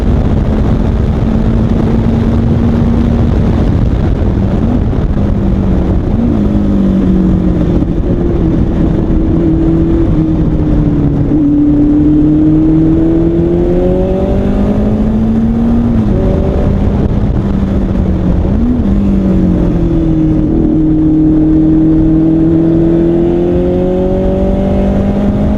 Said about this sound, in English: The sound of the Ginetta's Ford engine and the thrust it provides really send a tingle down your spine